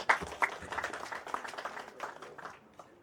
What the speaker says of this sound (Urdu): بہت ساری تالیاں ہونی چاہیے سر.